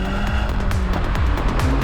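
A turbocharged 2-litre petrol engine in a 2014 MINI Cooper S hatch revs hard and accelerates, its loud rising roar close by and filling the whole moment.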